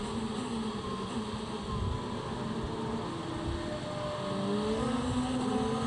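A distant DTM race car engine drones and shifts pitch, rising as it accelerates during qualifying at Misano in 2019, steady and continuous with no voices.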